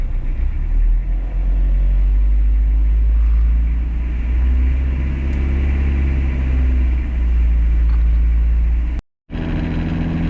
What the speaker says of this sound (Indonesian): Kalau kita gas, mudah-mudahan dengar ya. Oke, di RPM 2000 kita gas sedikit.